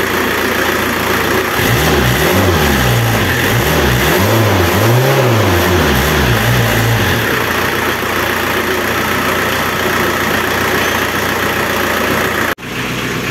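A Renault Kangoo diesel engine fitted with a Bosch VE injection pump revs up and down in a few swelling bursts, then settles into a loud, steady idle close to the microphone.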